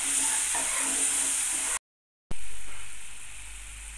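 Ginger paste frying gently over a low flame, a steady soft sizzle with faint stirring scrapes, cut by a short gap of silence before resuming and slowly fading.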